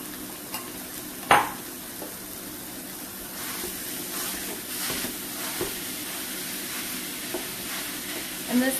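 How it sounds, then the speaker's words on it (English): Ground beef sizzles steadily in a hot pan, with a few sharp clinks and scrapes of a utensil stirring it, close by and without talk. "More sizzle, sizzle."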